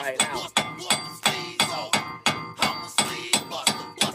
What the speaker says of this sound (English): we're gonna take a hammer and we're gonna hit this bad boy out.